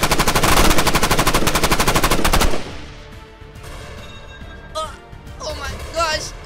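Rapid, loud machine-gun fire in the Roblox game Brookhaven RP, a dense burst for about two and a half seconds that stops abruptly, followed by quieter game sounds and voices.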